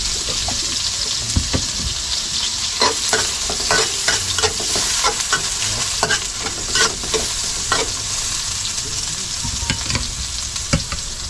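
Chopped onions frying and being stirred in a pan with chili, a steady loud sizzle broken by repeated scraping stirs of the utensil against the pan, with no talking.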